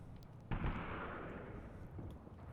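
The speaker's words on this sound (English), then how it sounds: "those are mortars falling" Mortar rounds landing in the WW2 strategy game Graviteam Tactics: Mius-Front, one sharp impact blast followed by a rumbling decay and faint distant pops.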